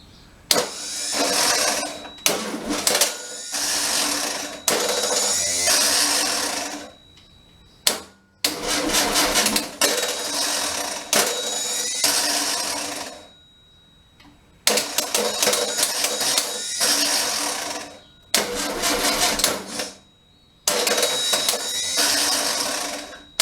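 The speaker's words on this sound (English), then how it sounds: "I'm going to crank it until that light goes out and then let it run for another 10 seconds or so just to make sure oil gets through." 36hp Okrasa engine being cranked to start: loud, close starter grinding in several long bursts with brief pauses between attempts, a fast mechanical churn that never catches, no talk.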